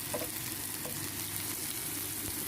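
Garlic and green chilies fry in a hot pan with a steady, close sizzle and faint crackles, no talking.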